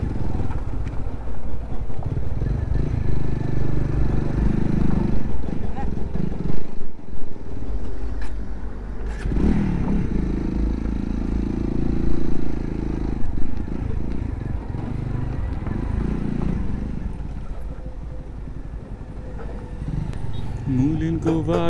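A motorbike weaves through a traffic jam in Nepal, its engine a steady low rumble with clatter and passing vehicle noise around it, close and continuous throughout.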